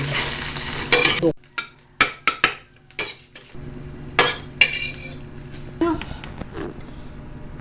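Hotdogs fry in a pan with a sizzling hiss under a series of sharp metal clinks and scrapes from a spatula or spoon stirring them. The stirring sounds come in quick bursts, and the frying continues steadily underneath.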